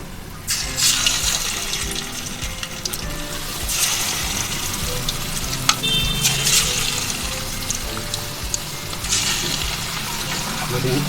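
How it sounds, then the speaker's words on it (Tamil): Marinated chicken frying in hot oil for honey chicken, a steady broadband sizzle and crackle running throughout with louder bursts, a voice talking over it. "கொஞ்சம் இந்த நம்ம மேரினேட் பண்ணி வச்ச சிக்கனை ஃப்ரை பண்ணிக்கலாம்."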